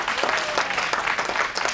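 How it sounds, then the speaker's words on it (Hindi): Audience clapping at a business seminar, an even patter of many hands, moderately loud and close, with no speech over it. "इनके लिए जोरदार ताली होना चाहिए।"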